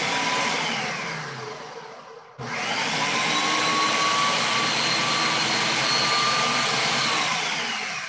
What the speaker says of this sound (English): are you done with the blending of your crepe mix?